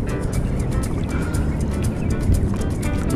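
Sea waves churn around a small boat out squid fishing in slightly rough morning water, a dense, loud, continuous wash of water with lapping splashes close by and no voices.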